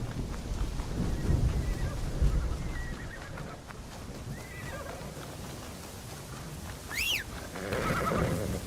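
A horse neighs in the Assassin's Creed Shadows video game, its whinny rising sharply near the end over a busy background of game ambience and scattered hoof and crowd sounds.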